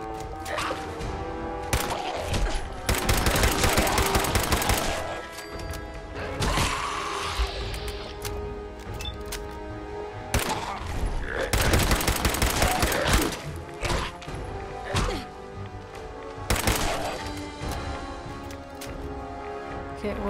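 Dense bursts of gunfire in Fallout 4, loud clustered volleys and crashing impacts in several waves, with quieter stretches of game ambience and a faint voice between them.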